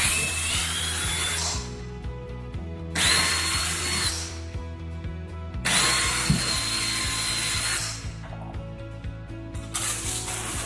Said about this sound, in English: Now we're going to go through and drill our holes for our wall anchors.